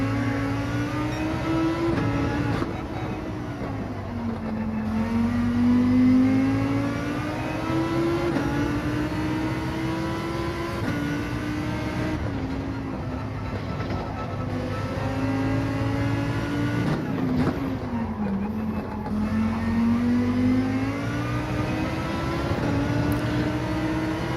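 Toyota Supra Gr.3 race car in Gran Turismo 7 at Deep Forest Raceway, its engine droning loud and steady with rising and falling pitch through repeated gear changes and acceleration, heard alone without talk.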